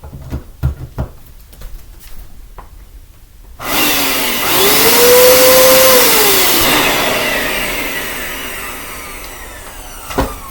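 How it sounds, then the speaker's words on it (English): A Hoover carpet shampooer vacuum, either a 2017 Powerscrub Elite or a 2005 Empower, is switched on after a few knocks and handling clicks, its motor spinning up with a rising whine into a loud steady roar that slowly fades. "Now let's try to shampoo her out."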